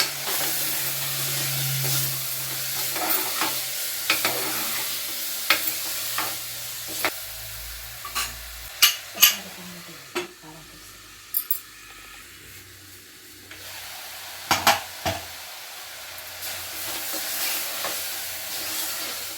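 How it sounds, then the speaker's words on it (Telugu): Cluster beans dropped into hot oil with tomato, frying with a steady sizzle and hiss, broken by repeated sharp clinks and scrapes of a stirring utensil against the pan, no talk. "గోకరకాయ అయితే నూనెలో మంచిగా పోయిందండి."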